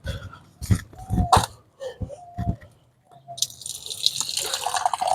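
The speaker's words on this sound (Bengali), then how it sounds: "তো জল ভরছি এখন।" Tap water runs steadily into a container to refill a dried-out water supply, a continuous hiss building after a few short knocks and clatters, with no talking.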